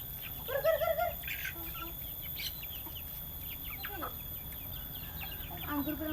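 Chickens and a rooster clucking and calling in a village on a quiet morning, bursts of clucks near and farther off, with small birds chirping against a soft background hum.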